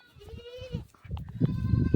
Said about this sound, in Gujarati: અહીંથી જરા દેખાશે આપણા બકરા જાય છે